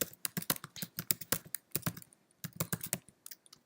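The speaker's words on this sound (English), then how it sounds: "Let's type something in here." Computer keyboard typing, a quick burst of crisp key clicks in uneven clusters with a short pause midway, close and fairly quiet, with no talk.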